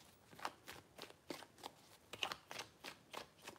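Tarot cards are shuffled by hand up close: a quiet series of crisp riffling swishes repeating in an even rhythm, about a dozen strokes.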